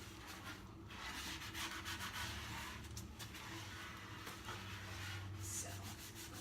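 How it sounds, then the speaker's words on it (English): A scrub pad or brush rasps steadily over a wooden table top coated in CitriStrip stripper, a quiet, continuous rubbing with a few sharper scratches and no talk. "So I'll just continue to scrub."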